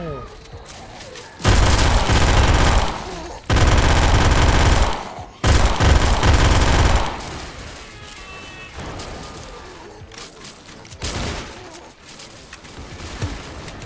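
MG42 machine gun in the video game Those Who Remain firing in loud sustained bursts, three long roaring volleys in close succession, followed by quieter game sounds and scattered smaller noises.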